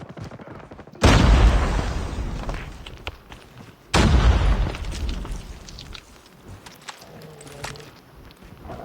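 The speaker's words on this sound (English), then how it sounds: "That grenade, bro." A grenade blast in the Warzone Mobile shooter game: two heavy booming explosions about three seconds apart, each with a sharp loud onset and a rumbling decay, followed by quieter in-game movement and ambience.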